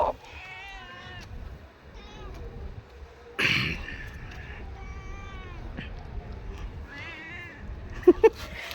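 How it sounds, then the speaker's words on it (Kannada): A cat at a house meows several times, with short high-pitched cries spread across the moment. Quiet background noise and faint talk sit beneath the meows. "ಬೆಕ್ಕು"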